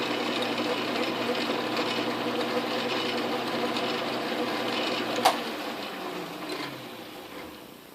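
An Atlas Craftsman metal lathe running, a steady mechanical whir with a rhythmic clatter, a sharp click near the end and the motor winding down.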